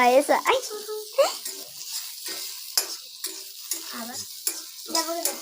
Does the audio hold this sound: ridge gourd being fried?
yes